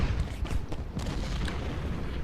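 Civil War infantry volleys in Ultimate General: Gettysburg, a rapid scatter of distant musket shots and booming reports crackling over a low rumbling battlefield din.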